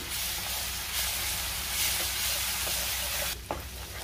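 A paste of coriander, ginger and garlic sautés in a pan for a chicken curry, giving a loud continuous hiss and sizzle with stirring scrapes. A sharper burst of hiss flares near the end.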